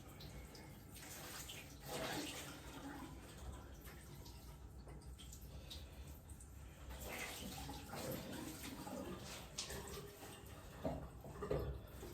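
An item is hand washed under running water from a tap, making a continuous near splash and trickle with shifting surges throughout and no speech.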